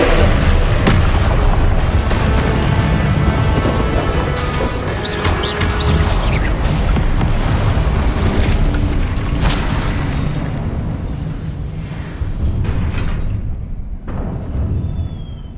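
Confringo blasting spells explode in Hogwarts Legacy on PS5: a dense, continuous barrage of loud booms and crashing blasts with rumbling bursts that runs through the whole stretch and eases off slightly near the end.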